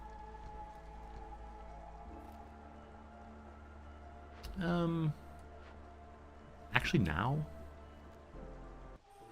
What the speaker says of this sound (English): Okay, drizzle happened.